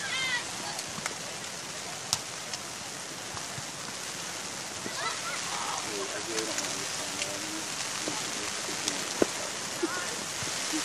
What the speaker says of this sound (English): As the rain picks up.